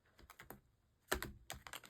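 Tarot cards are shuffled gently by hand, soft quick riffling clicks and taps in short bursts, close and quiet, with no talk.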